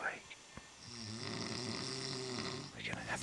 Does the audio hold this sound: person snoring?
yes